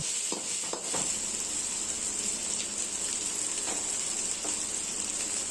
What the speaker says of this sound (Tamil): ஒரு நிமிஷம் இந்த பச்சை வாசனை போகிற வரைக்கும் வதக்கி விட்டுக்கிட்டே இருக்கணும்.